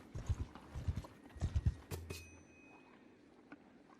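A horse's hooves clop in quick repeated beats while being ridden in Mount and Blade II: Bannerlord, fairly close and rhythmic, followed by a short clanging hit and quieter background afterward.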